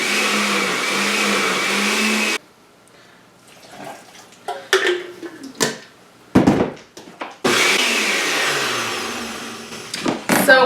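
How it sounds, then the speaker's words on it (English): A blender whirs loudly as it churns shredded paper and water into mushy pulp, cuts off into a stretch of clunks and handling, then roars back up steadily. "We're going to add some water so that our blender actually mixes it"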